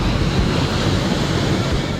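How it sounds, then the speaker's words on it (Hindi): Water churning and sloshing inside a mysterious well beside the Bharatmala highway in Morbi, with no wind or person stirring it; a steady, dense rushing wash like surf continues without a break, with no talk. "कुएं का पानी मचल रहा है, हिलोरे मार रहा है।"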